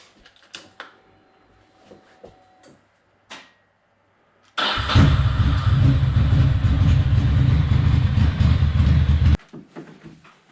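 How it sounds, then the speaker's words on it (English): A Ducati Monster 620 motorcycle fires up close by after a few quiet clicks and handling noises, then runs at a loud, steady idle for about five seconds before cutting off abruptly. "I should turn the bike on though."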